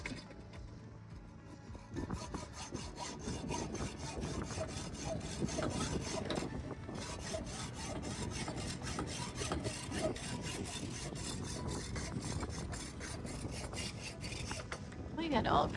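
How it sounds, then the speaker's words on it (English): A hand saw rasps back and forth through a rusted metal chain link in a steady, fast rhythm, close and fairly quiet, with faint voices in the background. "So I'm going to cut this link off. You just saw it off and then attach it."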